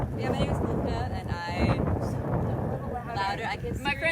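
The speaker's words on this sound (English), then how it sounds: "it is a little bit windy out today, so apologies if there's a lot of background noise" Wind gusts buffet the microphone outdoors, producing a steady loud rumble and roar that runs under a person talking throughout.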